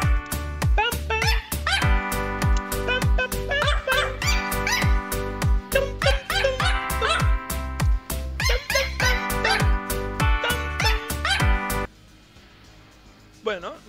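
A cartoonish dog sound effect from a livestream channel-point redeem: a rapid, loud run of barks, yips and squeaky whimpers over a bouncy backing, lasting about twelve seconds before cutting off abruptly.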